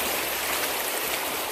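Continuous rushing of a river close by during a river trek, steady broadband water flow with no break and no voices.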